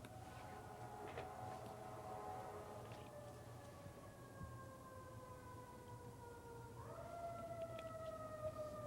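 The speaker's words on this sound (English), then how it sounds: "Let's wait till the sirens stop here." Several faint, distant sirens wail outside at once, their long tones sliding slowly up and down over a steady low hum.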